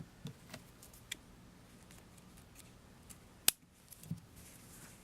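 Scissors snipping the end of crochet yarn: a single sharp, close snip standing out from a quiet room, with a few faint clicks and handling noises around it.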